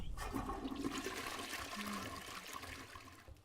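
A toilet flushing in a Final Fantasy video game, a steady close rush and gurgle of water running throughout, tapering slightly at the end.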